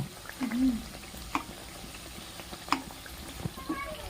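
Ripe jackfruit fritters (bora) frying in oil: soft bubbling with scattered pops and light clicks, fairly quiet and close, continuing steadily throughout.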